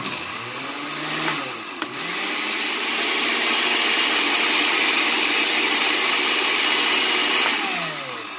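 Kitchen blender liquefying homemade beauty serum ingredients, including alum, running loud and close for the whole stretch, its motor pitch sliding up as it spins up and dipping briefly near the start and end.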